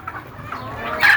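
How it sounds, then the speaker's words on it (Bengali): Native chickens clucking on a small family farm, their short calls rising out of a soft outdoor murmur with a louder burst near the end of the brief moment. "এখানে দেখেন, আমি যে দেশি মুরগি পালন করতেছি,"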